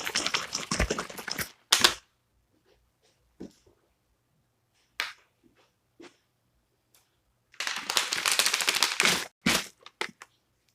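A shaker bottle holding a peanut butter ration drink is shaken hard in two bursts of loud, rapid rattling and sloshing, separated by a quieter stretch with a few isolated knocks; no voices.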